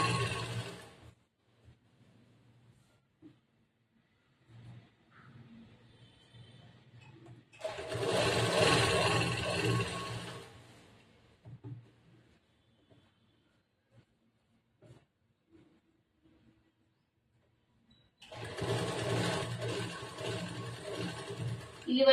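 An electric sewing machine stitches a churidar top in two close, loud bursts of rapid whirring, each lasting a few seconds, separated by quiet pauses with small handling clicks.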